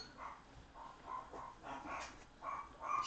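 A dog barks several times in short bursts indoors, the sharp yelps spread across a few seconds at moderate volume, with no talking.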